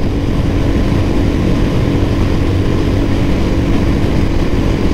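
Royal Enfield Hunter 350 motorcycle running flat out at about 120 in fifth gear during a drag race against a Classic 350, a loud, steady engine drone mixed with heavy wind roar and no break.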